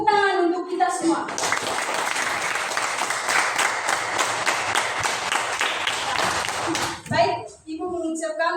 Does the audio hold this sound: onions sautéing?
no